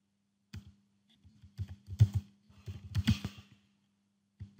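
Several bursts of keystrokes on a computer keyboard while searching for Microsoft Office, with close, quiet clicks arriving in short irregular clusters separated by pauses.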